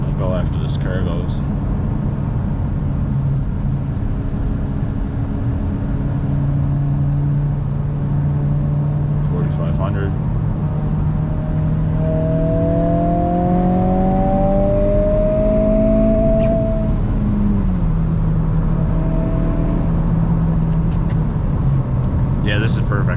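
A 2022 Honda Civic Si with a Stage 1 tune, running on California 91 fuel, accelerates hard in third gear. Its engine note climbs steadily for several seconds, dips briefly, then rises again under steady cabin road noise.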